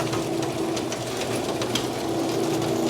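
Garage door opener running a chain that turns a jack shaft on a side-mounted conversion, a steady mechanical whir and rattle close by, continuous for the whole stretch.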